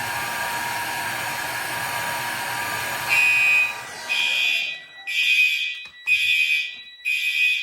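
A mechanical fire alarm horn in a basement fire alarm system test blares in loud, repeated pulses after a steady blowing hiss cuts off, each blast harsh and piercing.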